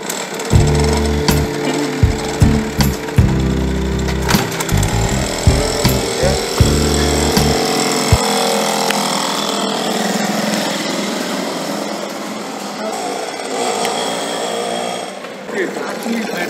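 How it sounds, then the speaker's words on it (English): A 1985 vintage Enfield moped engine starting, first with a few uneven sputtering bursts, then settling into a steady close running drone under brief talk. "So let's start the engine."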